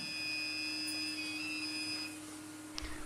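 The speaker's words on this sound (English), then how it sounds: "Select Load Right and wait for the extruder to heat up." A two-color dual-extruder 3D printer heats its right extruder for filament loading, giving a faint, steady electronic whine with thin sustained tones that drop away, then a short click near the end.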